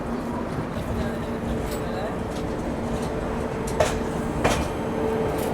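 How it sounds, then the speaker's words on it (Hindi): Jhelum Express passenger train rolling steadily while overtaking another train, with continuous wheel and carriage rumble, two brief sharp clanks near the end, and voices talking inside the coach. "फाइनली यहाँ पे अपनी ट्रेन ने ओवरटेक कर लिया है"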